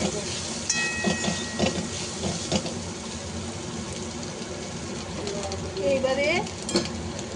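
Soybean chunks frying in a pan of hot oil, a steady sizzle with stirring and occasional clinks of a utensil against the pan, close and continuous for several seconds.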